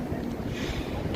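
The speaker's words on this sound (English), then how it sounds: "It's very windy, though." Strong wind buffeting a microphone outdoors in London, a brief, loud, continuous low roar and rush with no voices.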